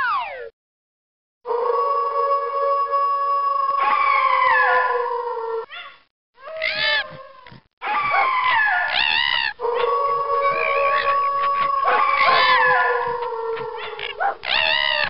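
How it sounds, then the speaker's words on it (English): A video game chorus of wolf, coyote, fox and dog howls, long rising and falling wails with yips and whimpers, layered and loud with brief pauses between. "Click on the wolf, coyote, fox, and dog to hear their canine chorus."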